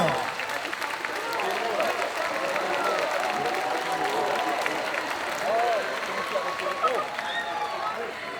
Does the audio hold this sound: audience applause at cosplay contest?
yes